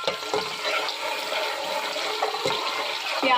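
Onions hit a pot of hot oil, about a cup, for achari chana pulao, bursting into a loud, dense, continuous sizzle with sputtering crackle close by and no talking.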